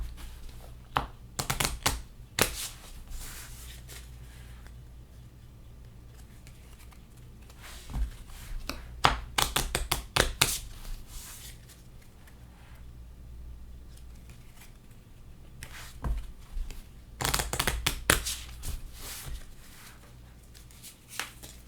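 Cards from the Pandemic: Reign of Cthulhu board game are shuffled in several bursts of rapid riffling and crisp flicking, close and fairly loud, with quieter pauses of handling between them and no talking.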